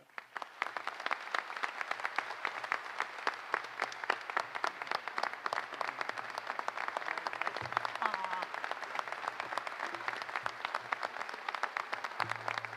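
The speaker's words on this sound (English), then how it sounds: "please have a round of applause for Senator Cindy Hyde Smith" An audience at the Delta Council annual meeting applauds Senator Cindy Hyde-Smith, a sustained round of many hands clapping at an even level throughout, with no talk over it.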